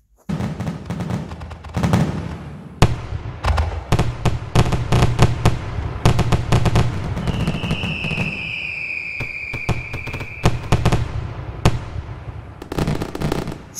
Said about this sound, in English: Everyone loves fireworks